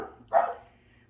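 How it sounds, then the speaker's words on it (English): A single short, close dog bark rings out sharply in a quiet room, fading quickly into silence. "sorry for the dogs"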